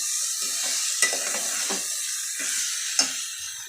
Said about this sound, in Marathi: आणि मग सगळे तांदूळ टाकायचे आणि मग छानसं परतून घ्यायचं